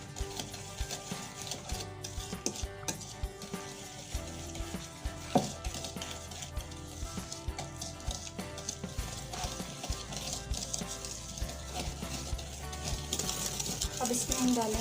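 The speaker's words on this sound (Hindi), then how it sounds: "इसको हम अच्छी तरह से मिक्स करेंगे 3 to 5 मिनट्स" Icing sugar is mixed by hand into a paste for a fruit cake batter, making continuous soft, rhythmic stirring and scraping throughout.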